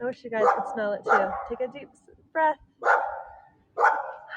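Dogs bark in several short, loud bursts with gaps between them, and a person talks nearby between and over the barks.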